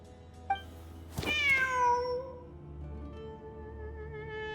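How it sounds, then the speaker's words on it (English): A cat in Genshin Impact lets out a short chirp, then a clear rising-and-falling meow, followed by a faint, thin drawn-out mew over quiet ambience. "Wait, there it is! The cat!"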